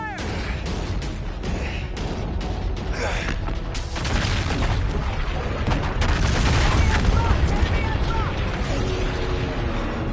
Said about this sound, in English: Guns, swivel mount fire one! Open fire, open fire!